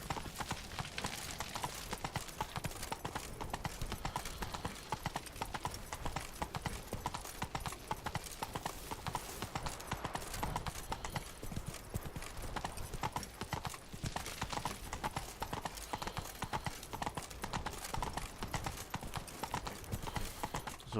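Horse hooves galloping in a steady, fast clip-clop rhythm, ridden through the Beauclair region of The Witcher 3: Blood & Wine on Xbox One, loud and continuous throughout with game ambience behind them.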